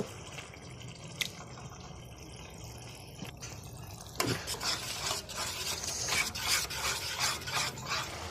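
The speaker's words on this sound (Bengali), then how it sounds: "টক দইটাকে ভালো করে ফেটিয়ে নেব" Sour yogurt, about 250 grams, whisked in a bowl with cashew and chili paste, a soft scraping, rasping stir that grows busier and more continuous in the second half, with no talking.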